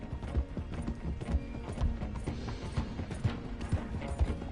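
Horse hooves clip-clopping in Red Dead Redemption 2, a steady galloping rhythm of close, repeated thuds running the whole time over a busy game soundscape, with a brief whinny.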